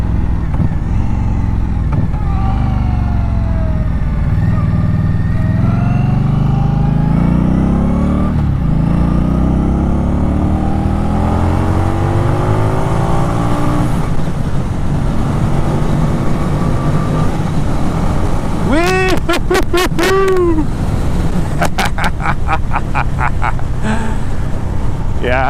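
A 2018 Indian Scout Bobber ABS motorcycle engine revs and pulls through rising, sweeping pitch climbs, loud and continuous over wind rush, with a person talking over it.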